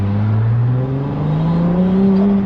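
A 2025 Ferrari 296 GTB engine revs up as the car sets off in first gear in auto mode, a loud, close, smooth rising drone that climbs steadily in pitch without a break.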